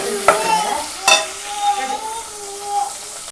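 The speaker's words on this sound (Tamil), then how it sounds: "வெங்காயம் நல்லா வதங்கட்டும்" Big onions being sautéed in a pan for egg kuzhambu, a close steady sizzle with two sharp spatula strikes and a faint ringing tone from the pan.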